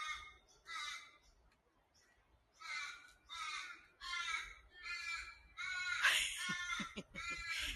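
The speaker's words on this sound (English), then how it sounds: "That bird though, I think is he a raven or a crow?" A crow or raven caws in the succulent gardens of the Royal Botanic Gardens Sydney, a series of about eight loud, harsh calls in irregular bursts, close by, with no voices over them.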